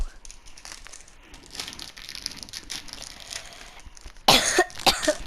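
A person coughs twice in a short, loud burst near the end, after a stretch of low, busy background noise while playing Hogwarts Legacy.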